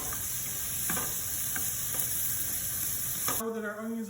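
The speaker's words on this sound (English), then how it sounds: "we're going to fry these until they're translucent again, or see-through, if you will" Onions fry for shepherd's pie with a steady low sizzle and occasional light stirring taps. Near the end the sizzle gives way to a tonal hum.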